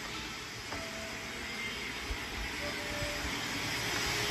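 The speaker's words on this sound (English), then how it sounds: "Why does it sound like my vacuum?" Household vacuum cleaner running with an added hose extension, a steady whooshing motor drone that holds at an even level with a faint whistling tone and a few soft knocks.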